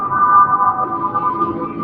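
A sustained modular synth tone with heavy reverb, a bright held pitch shimmering and ringing out with a long smeared tail, loud and alone without any voices.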